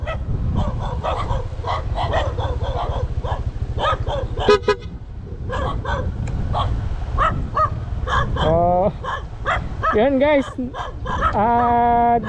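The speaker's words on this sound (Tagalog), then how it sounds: "May aso, di kaya ako abulin nito." Several dogs bark repeatedly nearby on a delivery rider's route while a person speaks and a car horn toots; the barking comes in clustered bursts over steady engine rumble.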